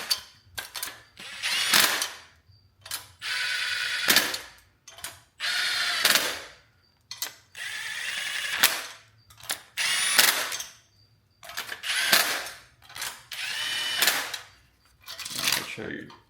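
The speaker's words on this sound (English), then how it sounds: "once you get all your things started, you can run these down with your impact" Impact wrench running down the cylinder head studs on an SR20DET engine build, firing in repeated short rattling bursts of roughly a second each, separated by brief pauses, close and loud.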